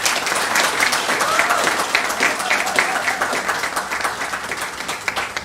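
Graduation ceremony crowd applauding awardees, a full steady roar of many hands clapping that holds throughout and eases slightly near the end, with faint voices mixed in.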